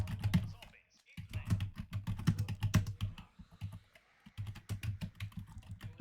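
Steady, close clicking of computer keyboard keys while typing a chat message during a game session, with a short pause partway through.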